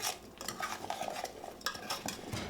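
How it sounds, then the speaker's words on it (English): Raw potatoes with paprika, thyme and rosemary being stirred in a bowl, a close run of scraping and clinking strokes with soft rustling between them, no talking. "Now we're going to stir all of those spices together and make sure that we get everything nice and coated."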